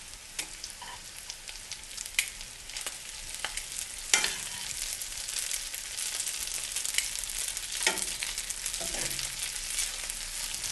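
Cooked linguine tossed into a hot pan with truffle oil for a carbonara-style pasta with poached eggs, giving a steady close sizzle with occasional stirring scrapes and clatters throughout.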